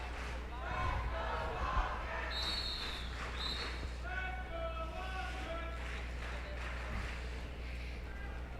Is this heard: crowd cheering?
yes